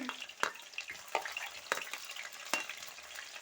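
Garlic and small onions sautéing in a pan for a Wayanad-style fish head curry with kudampuli, giving a steady sizzle broken by several sharp stirring scrapes, close and moderately loud with no talking.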